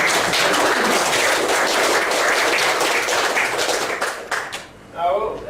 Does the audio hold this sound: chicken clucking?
no